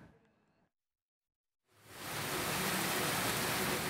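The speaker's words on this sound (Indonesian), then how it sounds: "hujan turun disertai butiran es" Heavy rain with hail falling in Jakarta, a dense hiss that fades in after a brief quiet gap and holds loud and steady, preceded by a short murky bit of background sound.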